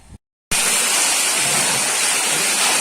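Water gushes steadily from a farm borewell, a dense, loud, roaring hiss that starts abruptly after a short silence and holds constant without letup.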